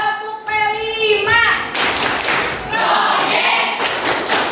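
A school class of children does a rhythmic group clapping routine, the P5 clap. Brief children's voices lead into loud, dense bursts of many hands clapping together in a steady pattern, close and full.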